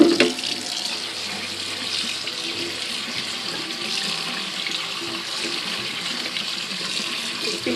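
Sprouting bird seeds are rinsed in a strainer under a running kitchen tap: a loud, steady rush of water splashing through the mesh into the sink, unbroken for several seconds with no voices.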